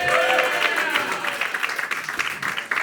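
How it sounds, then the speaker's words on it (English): Applause from a comedy roast audience in New York, fairly loud and steady, with crowd noise and some voices mixed in as the clapping slowly thins. "Please clap it up for Rob Rego, everybody."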